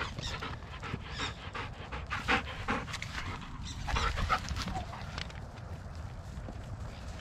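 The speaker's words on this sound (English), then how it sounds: "more dogs having more fun." Several dogs romp and play outdoors, with steady panting and occasional whimpers and scuffling footfalls running through the whole stretch at close range, fairly loud and continuous without talk.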